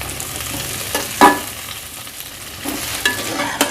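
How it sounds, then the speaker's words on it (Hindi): Okra fries over high heat in a steady sizzle, with a few louder clinks and scrapes of a spoon stirring it in the pan. "और भिंडी को हम फ्राई करेंगे थोड़ी सी तेज़ आंच पे"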